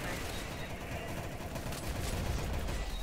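Gunfire from the video game Arsenal cracks in quick, fairly quiet bursts and sustained volleys, with the shots run together near the end while a player talks over them.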